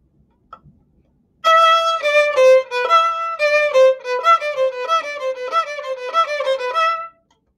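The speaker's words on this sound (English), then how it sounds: "The first little bit of music that you're going to hear is this jungle island music" Fast, bright orchestral passage, the jungle island ritual dance music, with rapid repeated melodic figures that start after a short near-silent lead-in and run steadily for about six seconds before stopping.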